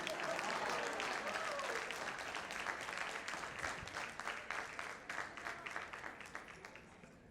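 Audience applause at a wedding sangeet, a full crowd clapping loudly at first, then thinning into scattered distinct claps as it fades toward the end.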